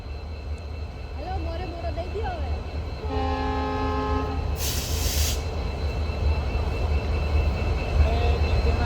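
A steady low rumble of a train engine fills the clip, with a horn sounding briefly partway through and a voice heard faintly.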